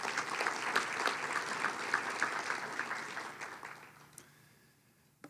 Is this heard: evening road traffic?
no